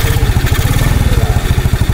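A motorcycle engine starting at a camping ground in Ciwidey, Bandung, then running with a steady, rapid low chugging pulse that stays loud and close for the whole stretch, with no talking.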